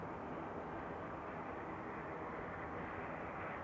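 A Loganair propeller aircraft, registration G-LMRD, taxiing at Manchester Airport, its engine a steady, muffled low grumble heard from a distance without a break.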